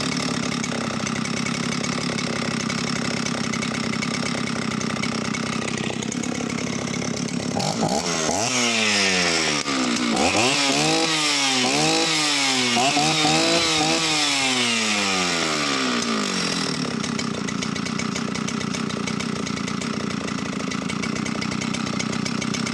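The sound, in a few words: Oleo Mac 272 67cc chainsaw engine idling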